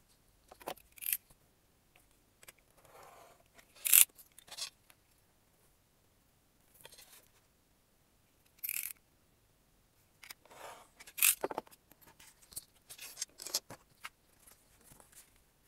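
Scissors cut material for a handmade steampunk journal, with short crisp snips and scraping rustles in separate bursts amid quiet pauses, close by.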